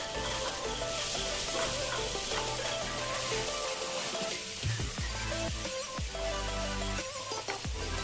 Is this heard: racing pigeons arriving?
no